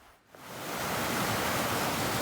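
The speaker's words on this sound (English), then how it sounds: "just thought I'd take a shot of this waterfall here" Waterfall pouring fast over slick rocks on a Mount Jackson hiking trail, a steady full roar swelling up after a quiet start and holding loud and close.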